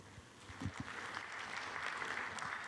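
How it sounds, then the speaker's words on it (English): Applause from a conference audience at a brand protection and authentication session, starting as scattered claps and swelling into a steady, moderately loud round of clapping with a few faint voices underneath. "Give a big round of applause."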